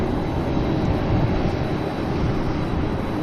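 A Qantas Airbus A330-300 arriving at Sydney Airport from Tokyo, heard as a steady, broadband jet engine roar with strong low rumble, continuous and fairly loud throughout.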